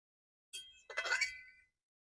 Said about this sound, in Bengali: চলো আমি ঢাকা লাগিয়ে দিই এটা ভালো করে সেদ্ধ হোক